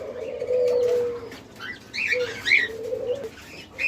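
Diamond doves at a breeding farm, some sitting in nest pots, give soft, low, drawn-out coos in two or three phrases, with brighter chirps from other cage birds scattered over them.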